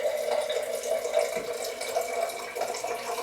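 Tap water runs steadily into a jar, a constant close splashing rush that holds unbroken from start to finish with no voices over it.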